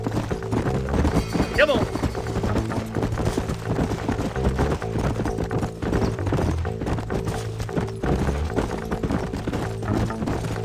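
Horse hooves clip-clop steadily through a Red Dead Redemption ride, a continuous galloping patter with a brief whinny near the start, under game music and a short spoken line.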